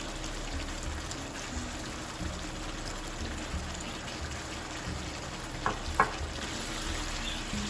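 Onions are stirred into a spicy meat masala in a pot, with a steady low sizzle and soft scraping throughout and a couple of brief sharp clinks near the end.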